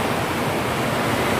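Rain pouring outside and leaking in at the side of a house, a steady, dense broadband wash of water noise without breaks, moderately loud and continuous.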